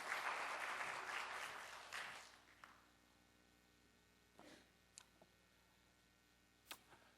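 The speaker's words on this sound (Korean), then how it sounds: "우리 윤영수 목사님 나오실 때 우리 힘차게 박수함으로 할렐루야로 모시겠습니다" At a church revival meeting, the congregation greets the pastor with faint, distant applause that fades out after a couple of seconds, leaving a few scattered clicks in near silence.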